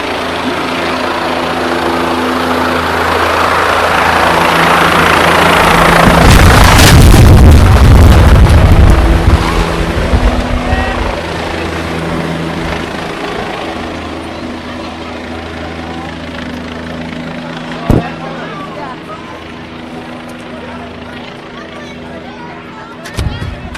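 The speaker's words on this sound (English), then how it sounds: "We do That's see a awesome. helicopter coming down Main Street" Helicopter flying low over Main Street during an evening holiday parade of lights, its broadband rotor and engine roar swelling to a loud peak midway, then fading to a steady background with crowd noise and a sharp bang near the end.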